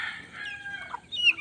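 Chicks and a hen let out of their coop into the open, with soft high peeping and clucking that drifts and fades, then a brighter, louder call near the end. No one talks.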